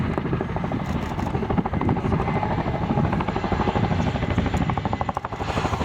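An RAF Chinook tandem-rotor helicopter makes a running landing on a runway at an air day, its loud rhythmic blade thud and turbine roar continuous and close throughout.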